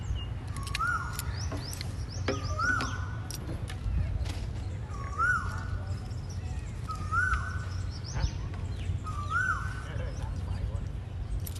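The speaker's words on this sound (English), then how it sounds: "beautiful bird sounds." Birds call and chirp repeatedly in a seaside park at Saphan Hin in Phuket, Thailand, several clear, distinct calls recurring every second or two over a low rumbling outdoor background.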